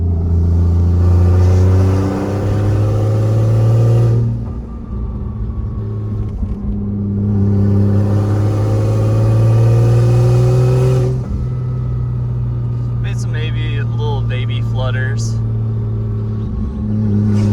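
A single-turbo Toyota Aristo on a gentle test drive: a steady, close engine drone at low revs with brief dips, the cabin hum rising and settling through mild throttle changes, and faint chirps near the end.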